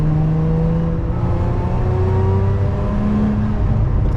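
A Lotus Emira sports car on a UK drive, with a steady engine drone and whirring exhaust as it downshifts, heard from inside the car, loud and continuous with shifting engine pitch.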